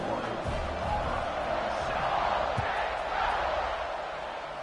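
A college football stadium crowd at an Auburn versus Ole Miss game, just before kickoff, gives off a continuous, dense roar that swells slightly midway, heard from a distance as a broad wash of cheering.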